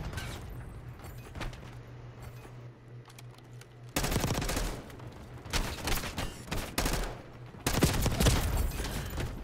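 Rapid automatic gunfire in a Call of Duty match: a quieter stretch of distant shots, then loud, dense bursts of close fire with a short pause in between. No voices are heard.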